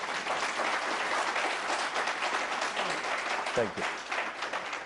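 A live studio audience gives a sustained round of dense, even applause that fills the whole stretch, with a brief thank-you spoken over it near the end.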